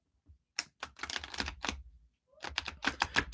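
Deck of cards being shuffled close up, with bursts of riffling and flicking, a pause in the middle, then more shuffling, quiet and alone.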